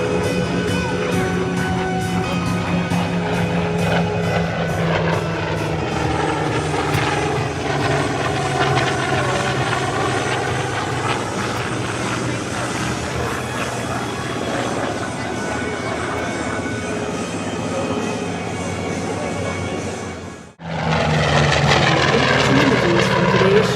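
Propeller warbirds, an F4U Corsair and a P-51D Mustang, flying at a military air show, a loud sustained engine drone with shifting pitch sweeps as they pass, briefly cutting out then returning strongly.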